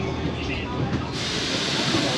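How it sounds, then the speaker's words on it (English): Inside a moving train in Paris, a steady loud rumble and broad hiss of the carriage fill the space continuously, with a slight swell partway through. "We're in a train right now."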